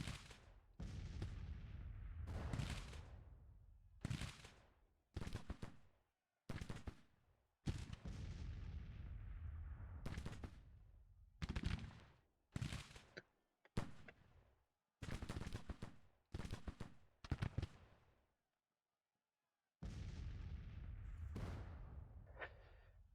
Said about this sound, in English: these guys were in the back all shooting